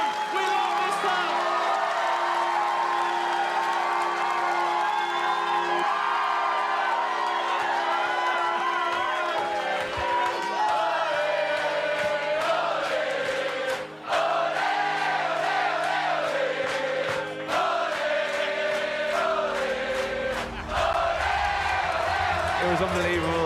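A large crowd at a homecoming concert roars, cheers and whoops in a continuous loud wash, with shouts rising above a steady hum and music-like tones underneath.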